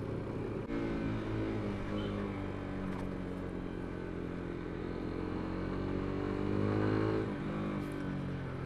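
Lifan KPT 200 motorcycle riding off beside a Kawasaki Ninja 250, a steady engine drone rising slightly as it pulls away, close and continuous with no talk.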